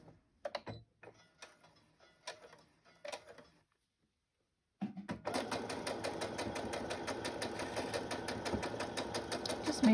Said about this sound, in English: Made a weird noise my sewing machine did.